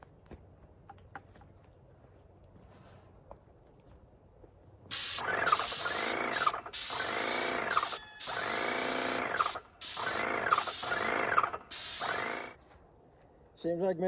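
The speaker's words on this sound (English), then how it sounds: "The sprayer is working great." A Graco paint sprayer spraying motor oil as stain makes loud hissing bursts of a few seconds each, about six in a row with short pauses, after a quiet stretch with faint background noise.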